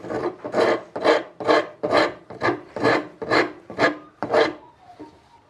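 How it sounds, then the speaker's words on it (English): Coarse rasp filing down a wooden axe handle: ten strong, evenly spaced rasping strokes at close range, each a harsh scraping burst, with no talking. "is go along with a coarse rasp. And just rasp it down."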